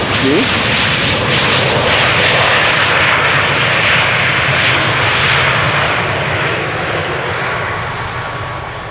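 A fixed-wing airliner lands at Amsterdam Schiphol Airport on a sunny day and rolls toward the terminal, its engines roaring loud and close, then easing off slightly toward the end.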